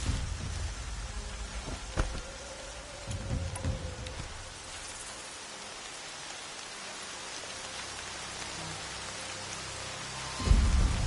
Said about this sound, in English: Rain's here.